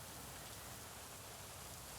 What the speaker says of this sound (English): has it been raining this whole time?